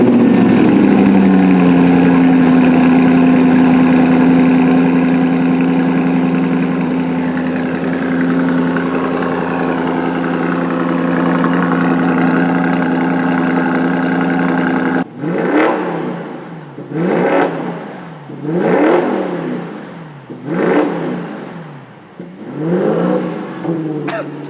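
An Audi RS7 engine with an Akrapovic exhaust idles steadily with a low drone, then revs hard in four or five sharp bursts that rise and fall, loud and close.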